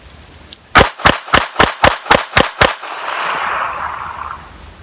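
A Beretta 3032 Tomcat pistol fires eight sharp, evenly spaced shots in quick succession, each loud and close. A fading rush of echo and outdoor noise follows the last shot.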